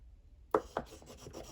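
A Caran d'Ache full blender pencil rubs over a coloured-pencil drawing on paper, giving a short run of soft, scratchy strokes that start after a quiet moment and repeat a few times close up.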